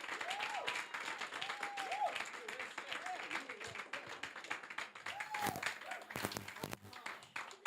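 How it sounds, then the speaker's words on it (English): Applause from a small audience at an editing competition event, scattered hand claps that build and thin out over several seconds, fairly quiet in the room, with voices talking and laughing across it. "3, 2, 1, applause."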